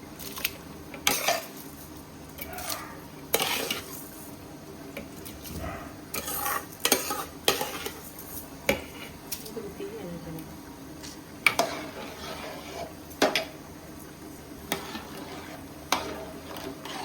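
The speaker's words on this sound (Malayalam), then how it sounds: "നമുക്കിനി അരി കഴുകി വെച്ചിരിക്കുന്നത് കൊടുക്കാം" Washed rice tipped into boiling water in a pot and stirred for chicken biryani, with scattered metallic scrapes and clinks of a ladle against the vessel over a low bubbling background.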